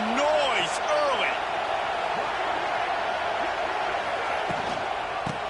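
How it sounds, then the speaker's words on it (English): Stadium crowd at an FSU vs LSU college football game, a continuous loud roar with whistles and shouts carrying over it, while a voice talks over the noise. "This crowd bringing the energy and noise early."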